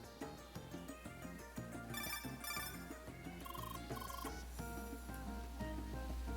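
A cell phone rings inside a video game over steady, busy game music, its bright repeating tone cutting through the score in several bursts before dying away, with no talk heard.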